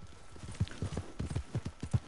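Horse hooves clip-clopping in Red Dead Redemption 2, a steady, close rhythm of about a dozen hoof strikes as a ridden horse walks into the town of Strawberry.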